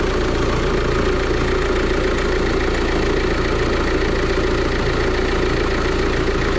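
An Opel Astra H 1.9 CDTI diesel engine idles steadily nearby after a cylinder head gasket replacement, a constant low rumble with a fast, even knocking throb and no variation.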